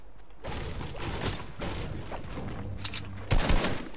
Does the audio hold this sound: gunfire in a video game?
yes